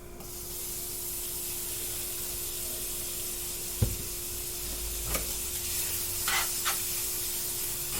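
Beef hits a hot pan in a home dinner stir-fry and sizzles with a steady, fairly quiet hiss, broken by a soft clatter and a few sharper spatters and crackles as it settles.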